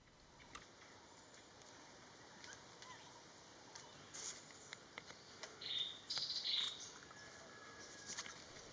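Large scimitar babbler calling in Thailand, several short clear whistled notes spaced across the clip, fairly distant over a constant insect and cricket drone, with scattered other faint chirps.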